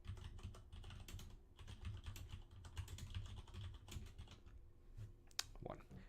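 Fingers type on a computer keyboard while writing LaTeX notes, with steady, quick clusters of soft key clicks and occasional sharper taps, close and fairly quiet, continuing for several seconds.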